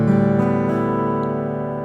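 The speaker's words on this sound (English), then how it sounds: "The first thing you have to do is put your guitar into drop D tuning." An acoustic guitar in drop D tuning rings out from a strum, its chord sustaining and slowly decaying, close and fairly loud with no voice.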